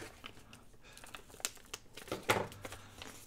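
A sheet of junk mail paper is folded by hand, giving soft crinkles and crisp rustling bursts with a louder creasing crackle toward the end, close and fairly quiet.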